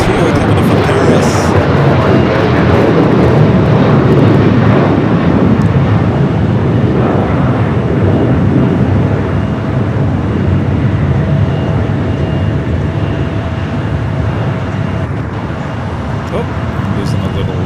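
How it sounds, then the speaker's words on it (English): Air France jet airliner arriving at LAX from Paris, a steady broad roar that holds at constant loudness and eases slightly toward the end, with voices present. "Air France Flight 22. Flight number 2 coming in from Paris."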